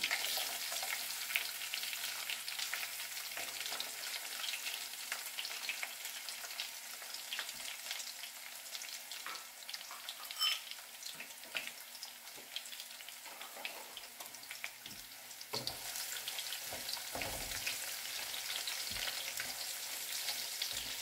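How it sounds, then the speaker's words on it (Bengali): Chopped garlic sizzles and fries in a pan of hot oil for a Bengali katla fish dish, a steady crackling hiss with scraping stir sounds breaking through toward the end. "প্রথমেই আমি দেব রসুন কুচি।"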